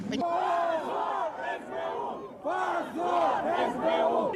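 A large crowd of pro-Russian activists at a street rally shouts and chants together, loud and close, in repeated rising surges of massed voices with a short lull in the middle.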